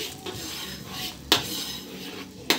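Metal utensil scraping and clanking in a pan as garlic is stirred into plenty of butter, with a faint sizzle underneath and two sharp clinks standing out.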